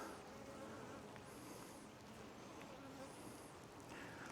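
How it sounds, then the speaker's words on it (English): Honeybees buzzing steadily around an open hive during a spring hive inspection, a dense close drone filling the whole stretch with no talking over it. "There's a bee on me."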